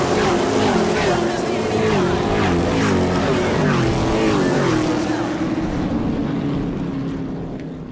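Racing trucks at New Smyrna racetrack in the Hoosier Series, engines droning loud and steady as the pack passes, with a commentator talking over the roar before it slowly thins out.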